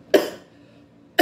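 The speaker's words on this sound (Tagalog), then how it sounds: "Pasensya na po yung pag-ubo." Two sharp coughs from someone speaking in Filipino, one near the start and one at the very end, close and fairly loud with quiet between them.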